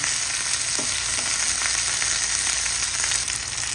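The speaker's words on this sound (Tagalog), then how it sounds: "igisa natin ang ating bawang sibuyas at ang ating luya" Garlic, onion and ginger sauté in hot oil with a steady, loud, even sizzle that keeps going without a break throughout.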